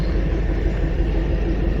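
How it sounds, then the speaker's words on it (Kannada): The Janshatabdi Express, train 12080 from Hubballi to Bengaluru, pulling out of a station with a steady low rumble heard from on board, close and continuous with no talk. "ಇದು ನಮ್ಮ ಟ್ರೈನ್ ಡಿಪಾರ್ಟ್ ಆತ"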